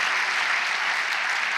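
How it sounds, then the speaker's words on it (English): Applause at a Rotary Club environment conference awards session, a dense steady crowd clapping that stays loud and even throughout the short stretch, with no voices on top. "Huge round of applause for Ryan."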